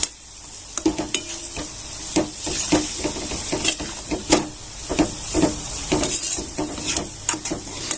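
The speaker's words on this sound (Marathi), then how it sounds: "आता छान असं आपल्याला हलवून घ्यायचं आहे" A spoon stirs a sweet mixture through hot ghee in a pan for Marathi modak or Gauri sweets, with repeated scraping strokes over a steady bright sizzle.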